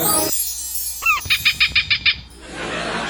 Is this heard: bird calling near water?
yes